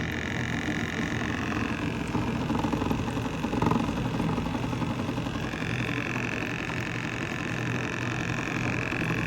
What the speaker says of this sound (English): we got power probe hooked up to our fuel pump, pushing out all that old nasty fuel